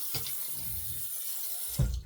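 Water runs from a faucet into a sink during a rinse after a razor shave, a low steady splashing hiss with a brief louder gush near the end, close and without talk.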